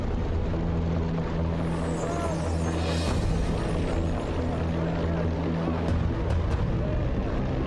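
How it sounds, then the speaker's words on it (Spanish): Kamikaze warplanes taking off, their droning propeller engines roaring loudly and continuously, with layered engine tones and a swelling passing rush partway through. "Más de 700 aviones, la mitad de ellos kamikazes, despegan y se aproximan a la flota de desembarco estadounidense"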